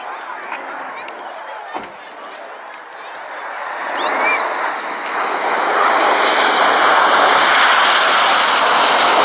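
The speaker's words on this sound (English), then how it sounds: "Coming in from the left with some red and white smoke, this is Typhoon." Eurofighter Typhoon combat jet trailing red and white smoke as it flies in at the RAF Cosford air show, a distant jet roar building into a loud, broad rushing thunder beneath a commentator's voice.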